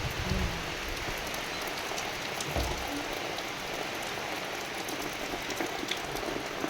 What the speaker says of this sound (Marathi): खूप दिवसांनी पाऊस आलाय तर आनंद बघा